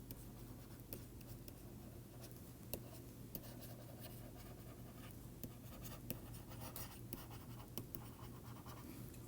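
Chalk or marker scratching across a board as a math formula is written out during a lecture, a long quiet stretch of faint scraping strokes and occasional taps with no speech.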